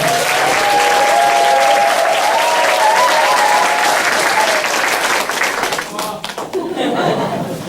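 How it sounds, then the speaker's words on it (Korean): An audience claps loudly and continuously to welcome a pastor giving a lecture, a dense wash of applause with some voices and chuckles mixed in, thinning toward the end. "열렬한 박수로 한번 환영해 주시면 고맙겠습니다"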